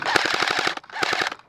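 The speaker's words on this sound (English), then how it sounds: "they're shooting at us" During an outdoor airsoft game, airsoft guns fire two rapid bursts of about eight and five shots, loud and close, with a brief pause between them.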